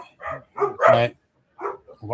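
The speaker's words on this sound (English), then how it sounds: "are my dogs barking now?" Dogs barking, a few short harmonic yips and barks in quick bursts, fairly close and clear, separated by brief pauses.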